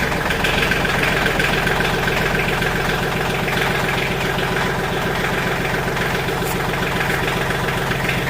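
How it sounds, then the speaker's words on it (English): An old Kubota engine idles after a cold start, a loud, close, steady rhythmic diesel chug that runs evenly throughout with no voices. "Do a cold start on the old Kubota here."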